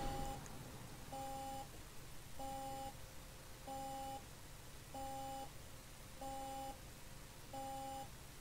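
A Solaris Urbino 12 Hybrid city bus in the OMSI 2 driving simulator sounds a steady electronic warning beep, six evenly spaced short double-toned pulses about a second apart over a low engine hum, with no talking.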